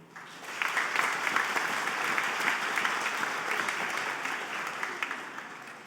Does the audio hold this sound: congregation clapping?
yes